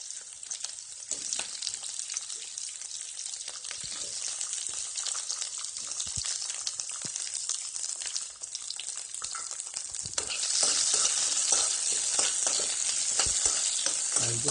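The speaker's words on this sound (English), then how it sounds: "now I'll put the beans. The wok needs to be really high. I'll saute this only for maybe 5 minutes." Beans sautéed in a very hot wok, a dense continuous sizzle with scattered stirring clatter that swells louder toward the end, heard close and alone.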